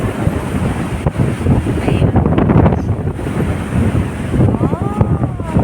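Strong wind at the sea buffets the microphone in a constant loud roar over crashing surf, with someone speaking briefly.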